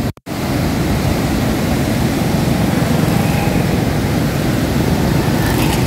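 Water rushing beneath the kilometre-long Head Marala bridge, a loud, steady, broadband roar that holds constant throughout with no voices.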